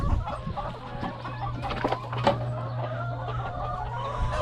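Chickens cluck steadily after being let loose onto weedy ground, with several birds calling close by in overlapping bursts over a constant low hum.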